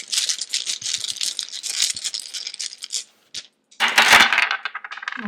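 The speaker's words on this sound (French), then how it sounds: "Je vais compléter avec ces dés." Dice tipped onto a table and shaken, a dense clattering rattle of small hard pieces, then a brief pause followed by another loud burst of clicking tumbles.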